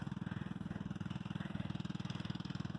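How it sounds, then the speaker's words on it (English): Dirt bike engines running nearby on a farm in spring, a steady low pulsing engine drone with a rapid even rhythm, moderately loud and continuous with no talk over it. "there's gonna be a lot more noise because I hear the neighbors' dirt bikes too"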